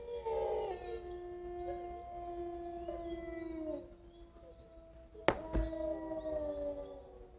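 A person imitates a wolf howl with a long, wavering, sustained call that rises and falls over several seconds inside a house, followed by a sharp knock and faint background noise.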